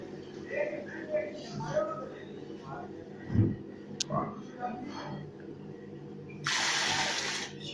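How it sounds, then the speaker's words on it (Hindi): Water gushes in a steady rush as it is poured into croissant dough made with flour, salt, yeast, eggs, butter and dry milk. The pour comes late and loud, after stretches of talking. "ये पानी ऐड हो रहा है इसमें।"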